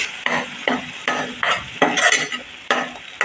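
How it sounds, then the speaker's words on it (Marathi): Ground masala paste for a spinach kofta curry sautéed in oil over a low flame, with repeated stirring strokes and a steady sizzle, close and moderately loud, no talking. "वाटप आपण चांगलं बारीक गॅस ठेवून अगदी तेल सुटेपर्यंत चांगलं परतून"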